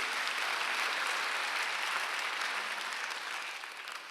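A church congregation applauds together during a Sunday worship service, a dense, steady wash of many hands clapping with no voices, fading slightly toward the end.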